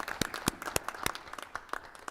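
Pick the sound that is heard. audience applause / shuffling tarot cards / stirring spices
audience applause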